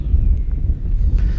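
Strong wind buffeting a microphone at an RC model airplane flying field, a loud continuous low rumble with gusty fluctuations and no voices.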